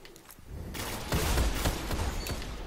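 Rapid pulse rifle bursts from a first-person shooter match, a dense run of sharp repeated shots that grows louder partway through and continues steadily to the end.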